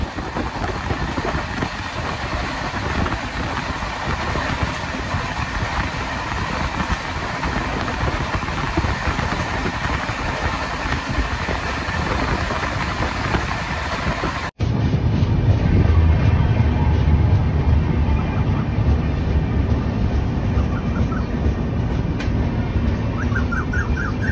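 The 12814 Steel Express standing at Chakulia station, a steady loud rumble and hiss of the train and engine that jumps abruptly louder and fuller partway through, continuing without pause.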